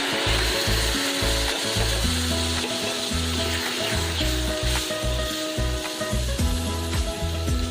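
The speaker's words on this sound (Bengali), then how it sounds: "এবার নারকেলের যে পাতলা দুধটা সেই দুধটা দিয়ে দেবো" Prawns sizzling loudly in a pan as thin coconut milk is added, a steady close-up frying hiss with a rough low scraping, no talk.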